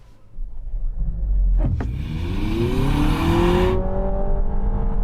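A Honda Civic engine revs up hard as it accelerates in sports mode, the pitch sweeping upward through a gear change and then holding a strained whine before easing off.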